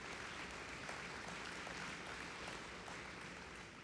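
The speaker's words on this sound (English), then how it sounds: "Please give him a round of applause if you would." Steady applause from an audience at a scholars graduation ceremony, honoring a congressman; dense continuous clapping holds evenly at moderate volume throughout with no pauses and no talk over it.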